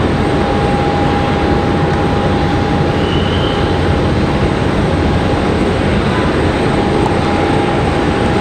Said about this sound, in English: There they go. A lot of smoke coming out of the back of those engines.